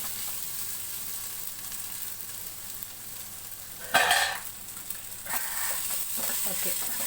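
Spicy mutton chukka frying in a pan, a soft steady sizzle with a louder burst of hissing and stirring midway, then continued frying with faint background sounds.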